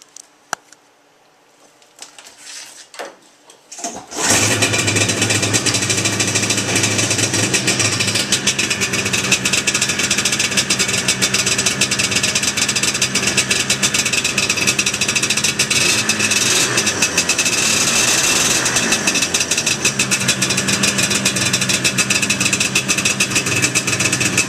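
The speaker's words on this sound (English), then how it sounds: "I'm going to start it up real quick for you so you can hear that pounded Kohler engine." Kohler engine on a 1979 John Deere Spitfire riding mower cranks and catches after a few seconds of quiet handling noise, then runs steadily and loudly with a rough, pounding idle for the rest of the stretch.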